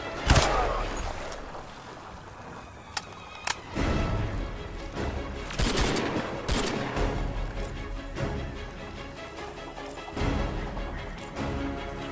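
Turret gunfire in the video game Crysis 3: heavy booming shots and crashing impacts spread irregularly over a rumbling battle backdrop, loud and close with sharp isolated blasts.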